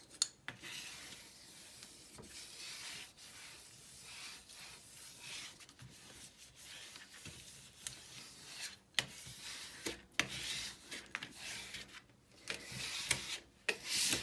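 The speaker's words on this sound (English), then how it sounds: "then I always give it a good burnish on the back" Paper being burnished onto the back of a folio or album cover, a soft, steady rubbing and scraping with irregular strokes, close and fairly quiet, with no talking.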